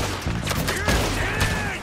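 Gunfire in the video game Red Dead Redemption 2, a quick cluster of sharp shots and booms over about two seconds, loud and close amid game sound.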